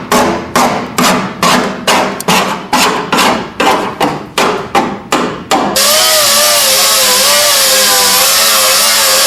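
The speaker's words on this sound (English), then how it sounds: "We'll grind a weld down" Angle grinder grinding down a weld on a Ford Mustang quarter panel patch, first in about ten short rhythmic bursts against the metal, then one loud, continuous, harsh grind close by, with no talk.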